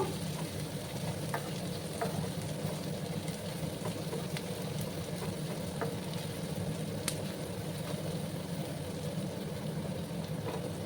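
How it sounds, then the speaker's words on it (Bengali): Onions frying in a pan while being stirred, a steady moderate sizzle with a low rumbling undertone and occasional scraping clicks from the spatula. "আমি পেঁয়াজগুলোকে ভেজে নিচ্ছি"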